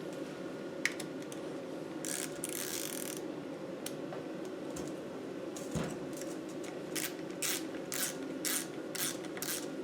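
A ratchet tightens bolts on a 100 amp alternator during repair work, sounding as short bursts of faint clicking over a steady background hum, with no talking.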